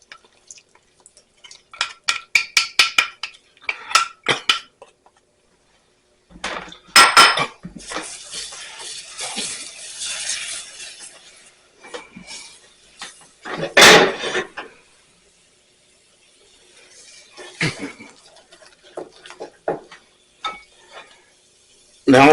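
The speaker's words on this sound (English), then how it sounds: "I'm going to put in my last tablespoon of butter, and I'm going to put in my milk and flour mixture." Butter and a milk-and-flour mixture going into a pot of cream of asparagus soup: metal clinks and utensil taps against the pot in quick bursts, then pouring and sizzling with stirring scrapes, loud and close with pauses between.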